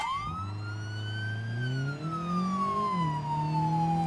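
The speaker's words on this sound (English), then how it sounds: "I know there's that police car that's gonna pull out" A police car siren in the BeamNG.drive video game wails steadily and loudly, its pitch sweeping up, holding and slowly gliding down, with an engine hum beneath and no talk.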